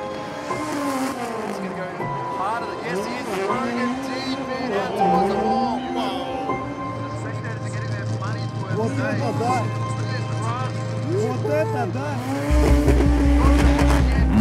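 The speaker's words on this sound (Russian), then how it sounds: "Мотор лупится в отсечку." Drift car engine bouncing off the rev limiter with squealing tires, a loud sustained roar that grows harsher and buzzier toward the end, under excited commentary from people talking over it.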